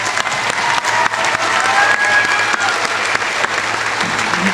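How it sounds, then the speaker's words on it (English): Applause from a large audience at a commencement ceremony, a loud, dense, continuous wash of clapping that sustains evenly throughout without speech. "Let's give him another round of applause."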